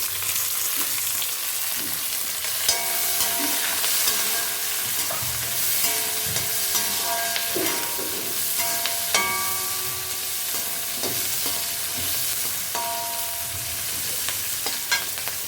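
Onions, curry leaves and green chillies sauté in a pan for radish sambar, with a steady close sizzle broken by repeated scraping stirs of a spatula; no one speaks.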